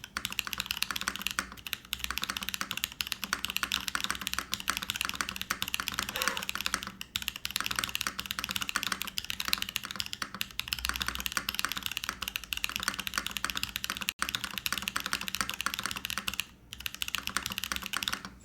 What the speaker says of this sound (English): The gaskets are a little bit compressed on this particular board, so I think this is gonna be a pretty stiff typing experience,